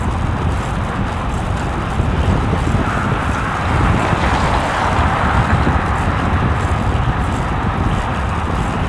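Steady, loud wind roar and buffeting against a microphone while cycling downhill into a headwind on a morning commute, a continuous broadband rush with no voices.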